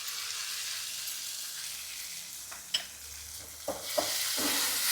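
Ground tomato poured into a pan of frying onions for kichadi, a steady close sizzle with a few soft splashes and a louder hiss toward the end.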